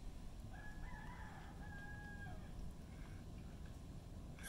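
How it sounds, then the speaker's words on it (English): A rooster crows at daybreak on Moorea in Tahiti, one drawn-out call rising and holding steady, fairly distant over a constant low background hum of the island morning. "And the roosters."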